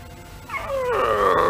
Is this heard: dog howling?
yes